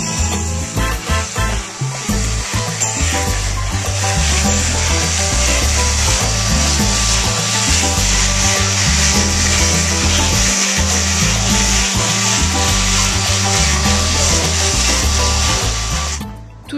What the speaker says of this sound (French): on gratte, on frotte, on ponce, on peint, ça s'active un peu dans tous les sens